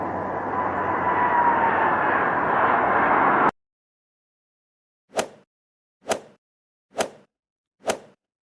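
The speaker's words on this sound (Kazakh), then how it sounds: "Бұл ұшақ." A cartoon airplane flies past with a loud steady engine drone for about three seconds, stopping abruptly, followed after silence by four evenly spaced soft plopping pops.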